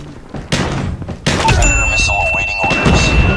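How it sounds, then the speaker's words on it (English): A grenade detonates in Call of Duty Mobile's Frontline mode: two heavy, close thuds in quick succession give way to a sustained roar of blast noise with thin ringing tones and game clatter, with a voice faintly present underneath. "Grenade out!"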